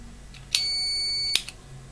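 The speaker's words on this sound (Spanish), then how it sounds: "He puesto el polímetro en ohmios, en pitido." A single high electronic beep from a multimeter on continuity test while checking a switch, steady and clear, lasting just under a second in a quiet room.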